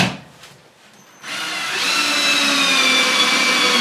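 After a second of quiet, a power drill starts driving 2-inch stainless Phillips screws into a new plastic toilet flange, a loud, close, continuous whine that holds steady to the end.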